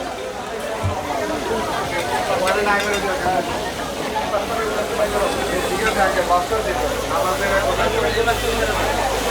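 Hilsa fish fry in hot oil at a busy riverside eatery on the Padma at Mawa ghat. A broad, continuous sizzle sits beneath loud crowd chatter and nearby talking.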